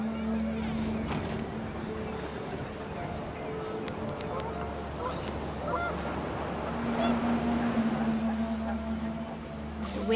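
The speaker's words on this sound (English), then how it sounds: "The wind picked up, and panicked geese appeared and quickly went." Panicked geese honking in a burst of wind within the video game What Remains of Edith Finch, a steady flurry of overlapping honks over a windy, busy background.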